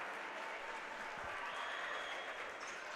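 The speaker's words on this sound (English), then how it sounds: "You'll get a nice round of applause." A basketball crowd at a high school section semifinal gives a steady round of applause, dense clapping heard from a distance at low level.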